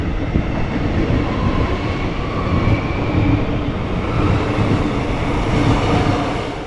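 A Werribee line train passes close by a station footbridge walkway, a loud, sustained rumble and roar of wheels on track that holds steady throughout.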